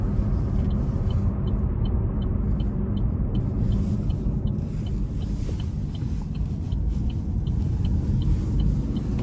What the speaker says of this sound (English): Even though it's just a turbo 3, it still has pretty good pickup in my opinion.